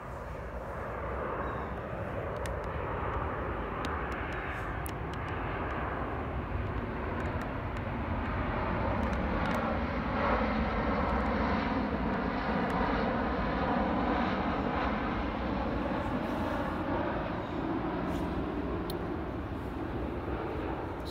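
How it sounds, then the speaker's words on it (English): An airplane passes overhead outdoors among trees, its engine a steady, broad droning roar that holds evenly for about twenty seconds, moderately distant, with no talk over it. "And of course, we got a passing plane."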